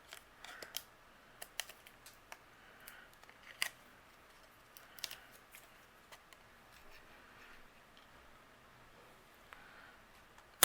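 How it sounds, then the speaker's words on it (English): Sharp paper-snipping clicks from scissors trimming the fishtail end off a cardstock piece at a craft table, scattered quiet cuts spread across the stretch with soft handling noise between. "I trimmed off the fishtail on one side of this"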